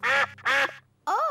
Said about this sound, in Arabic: أوه، إنهم البط.